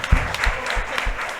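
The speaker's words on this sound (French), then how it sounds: "Je pense qu'ils se méritent une bonne main d'applaudissements." A live audience applauds an organizing committee at a psychology talk, a brief burst of clapping with a few heavier individual claps up close, holding steady throughout.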